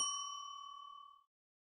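A single bright bell ding rings out clearly and lingers, its metallic tone fading smoothly over about a second before cutting to silence.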